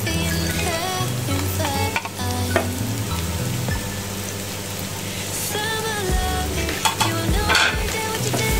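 Carrots stir-fried with a fragrant spice paste in a hot pan give a steady sizzle and frying hiss, with repeated scraping and stirring strokes of a utensil close up, no voices.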